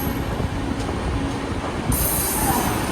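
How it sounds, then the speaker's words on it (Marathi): A Mumbai local train runs at Mumbra station, its steady rolling rumble and rail noise loud and close throughout, with a faint high squeal toward the end. "स्टेशन आहे मुंद्रा मला वाटतं हे लोकल थांबेल इथे"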